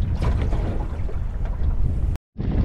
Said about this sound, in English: the wind has picked up a bit